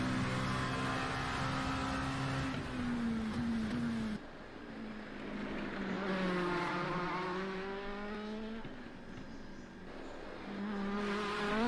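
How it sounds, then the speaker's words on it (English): LMP prototype race car in a racing video game, engine screaming through repeated upshifts and downshifts, pitch sweeping up and falling away in waves, loud and close with no talking. "That LMP sound, I can do that again."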